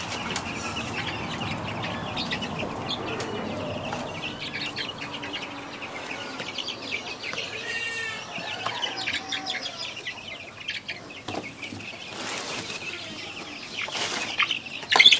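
Red-head cocks in a sawdust-floored free range chicken pen cluck and chirp softly, with bursts of wing flapping, fairly faint and close.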